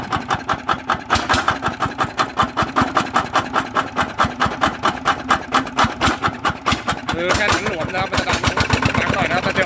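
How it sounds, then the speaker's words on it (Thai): A Yanmar engine upgraded from 120 to 150 running steadily, with a fast, regular chugging knock, loud and close, and someone talking over it partway through. "ตอนนี้ก็ได้ติดเครื่องแล้วนะครับ"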